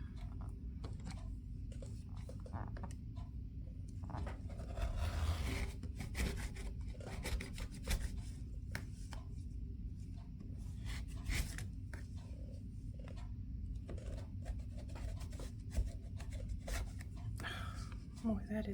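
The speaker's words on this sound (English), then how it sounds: "prepare by cutting off the hem" Rotary cutter slicing off the hem of a pair of denim jeans, a steady close rasping, rubbing scrape that runs continuously against the thick fabric, with brief sharper strokes scattered through it.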